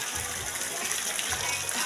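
Steady rushing mountain water fills the clip, a continuous broad wash like a stream pouring over rocks, close and constant with no pauses, on a Visayas island.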